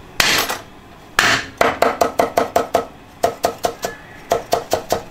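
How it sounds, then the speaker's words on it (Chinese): A kitchen knife minces ginger on a cutting board with sharp, loud, close chops, first two single strokes, then quick rhythmic bursts of rapid chopping separated by short pauses. "剁成姜末哈"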